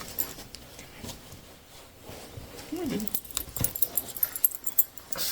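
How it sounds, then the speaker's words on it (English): A small pet dog indoors whimpers and snuffles in a few short, soft whines, with faint jangling and movement close by while a person talks. "The dog is in the house."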